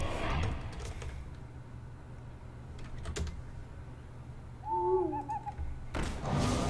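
An owl hoots twice in quick succession inside a video game, a short clear call heard alongside keyboard typing and soft thumps.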